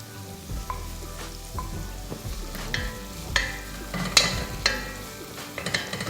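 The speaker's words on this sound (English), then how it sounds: "I'm just going to saute this for a while." Beef with garlic and ginger sautéing in a hot pan for a stir fry, a steady close sizzle punctuated by scraping stirs and sharp clinks of a utensil against the pan.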